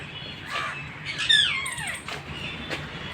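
Parrots in an aviary at Kankaria Lake give a few harsh, rising squawks and chattering calls over about three seconds, fairly close, with a soft outdoor hum behind.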